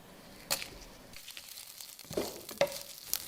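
Cumin and mustard seeds sizzle and splutter in hot ghee in a pan, giving a steady soft frying hiss broken by a few sharp pops and crackles.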